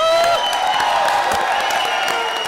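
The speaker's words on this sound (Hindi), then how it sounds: "तो इस बात पर जोरदार तालियां हो जाए" A comedy show's studio audience breaks into a steady, loud wash of applause and cheering that holds evenly for a couple of seconds with a sustained musical tone underneath.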